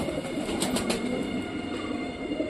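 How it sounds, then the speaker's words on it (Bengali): Jacobin pigeons coo softly against steady background hum, a few low throaty calls from nearby birds over a short stretch. "সব সময় ডাকতে থাকে, যখন দরকার তখন ডাকে না, যখন আমি নিচে থেকে ডাকি রিও রিও"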